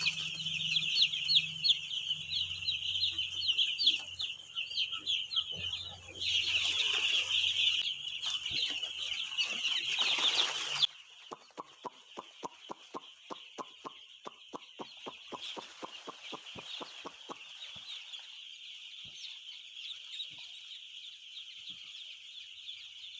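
Broiler chickens on a poultry farm clucking and chirping in a dense, continuous chorus, with a burst of louder squawking and then a run of regular rhythmic clicks from farm equipment under the flock.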